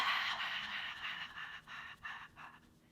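Someone breathes out through the mouth during a calming tapping exercise, a series of breathy, airy exhales that taper and break into shorter puffs, close to the microphone with no talk.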